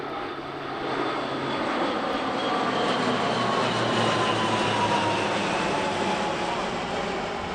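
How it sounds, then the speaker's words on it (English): Two Lockheed C-130J turboprop transports fly past at an Italian Air Force airshow, a sustained droning engine hum with a faint propeller whine, moderately distant and steady throughout. "Also flying past, 2 C-130Js."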